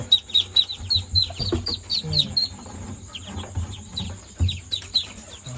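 Seventeen ducklings' small high-pitched peeps overlap in a busy, continuous chorus, with low rumbling and handling noises underneath.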